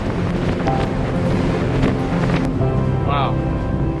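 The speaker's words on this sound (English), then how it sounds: "It's windy." Wind buffets the open deck of a car ferry leaving Seattle with a steady, rough roar, and a low boat and water rumble sits beneath it. A voice may be faintly present for a moment.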